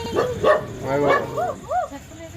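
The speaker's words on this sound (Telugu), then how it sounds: "డాగ్ భయపడుతున్నాడు" A frightened dog gives short, high yips and whimpering barks close by, several in quick succession, while a person speaks at the same time.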